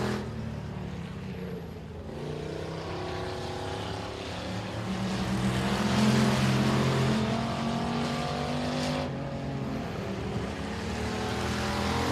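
An Outlaw race car rolls off turn four at Boothill Speedway during time trials, its engine droning and swelling in pitch as it passes, fairly distant, with a second car's hum faintly underneath.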